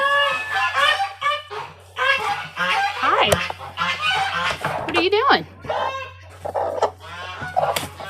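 Harsh, loud honking calls from a hen in quick bursts, interleaved with a person speaking briefly over a low steady hum.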